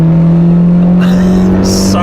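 A Toyota MR2 engine drones loud and close with a steady low tone, and brief higher rev bursts break through twice near the end.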